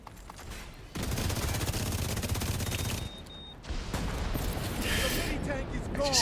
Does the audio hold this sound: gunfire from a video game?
yes